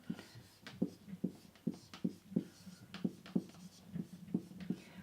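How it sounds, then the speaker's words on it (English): Pen or pencil writing by hand on paper in a close, quiet room: a steady run of short scratchy strokes and taps, roughly two or three per second, with no speech. "Давайте напишем. Let's write it down."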